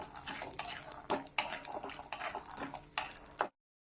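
Peanuts roast in ghee in a pan for Gokul ladoos, with faint crackling and clinks of a spoon scraping and stirring in irregular bursts, then the sound cuts off abruptly.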